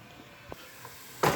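Onions fry in a pan for homemade Indian cooking, giving a faint, steady hiss of sizzling that swells into a louder burst of spitting near the end.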